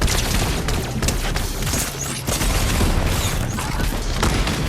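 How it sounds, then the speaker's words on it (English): Boom bow explosions in a Fortnite Zero Build match, a dense, continuous barrage of blasts and crashing impacts layered over gunfire and game noise with no clear gaps. "that human Bill is just steady spamming that boom bow and causing a bunch of damage to my teammates"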